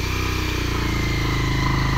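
A motorcycle engine runs close by as a rider sets off on the bike, a loud, steady low throb with an even pulsing beat and a slight rise in revs near the end.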